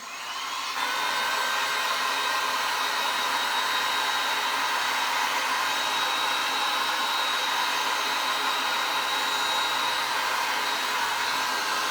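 A handheld hair dryer blows on freshly glued wood pieces for a wood fire cracker craft, switching on within the first second and then holding a loud, steady whooshing roar alone for the rest of the clip.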